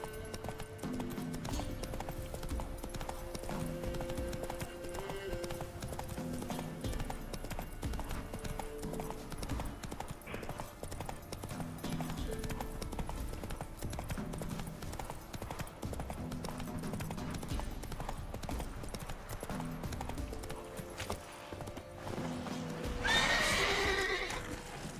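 Roach, the horse in Witcher 3, gallops with rapid, continuous hoofbeats over game ambience and music, ending in a loud neigh near the close.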